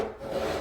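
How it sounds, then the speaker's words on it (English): A hand saw rasps through wooden mitres on cupola horns, giving a steady, close, continuous scraping stroke with no voices over it. "I think that the best way to cut the mitres on these horns is to use my hand saw"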